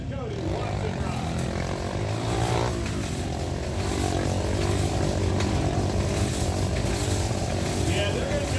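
Motorcycle ridden at Sturgis, a continuous rough engine drone close by with shifting revs and crowd or voices faintly mixed in throughout.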